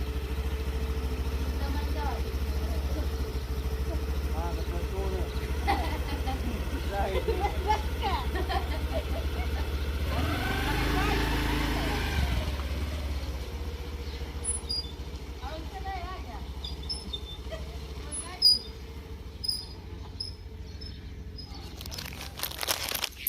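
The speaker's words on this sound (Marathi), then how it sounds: "बरं झालं गाडी आली गाडी आली" A vehicle's engine idles as a low, steady rumble beneath voices, then swells briefly as it pulls up mid-clip before settling back, with people talking nearby.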